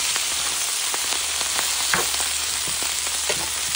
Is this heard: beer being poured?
no